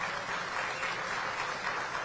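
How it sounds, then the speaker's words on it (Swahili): A stadium crowd applauding at a Yanga football club event in a modern stadium, a sustained wash of many hands clapping at once, steady and moderately distant, with no one speaking over it. "Tuwapigieni makofi mengi sana."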